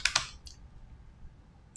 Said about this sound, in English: let me just type it up from the previous.